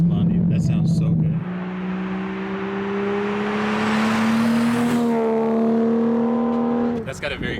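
A Toyota A90 Supra fitted with an RK Titanium 4-inch single exhaust revs up from idle into a steady, rising drone held for several seconds before dropping off, loud and close, with brief talk at the start and end.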